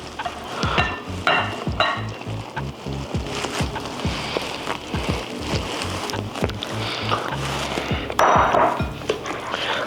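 Wet ingredients are stirred into dry ones for a bacon cheddar cornbread batter, giving a close, continuous scraping and squelching against the bowl with repeated knocks of the spoon and no talking.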